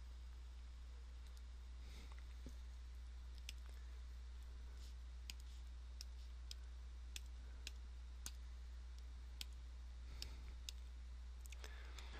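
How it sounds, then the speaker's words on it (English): Buttons on a graphing calculator are pressed one after another, giving faint, sparse plastic clicks over a low steady hum. "we're going to use the graphing calculator. So first we'll type in the simplified function."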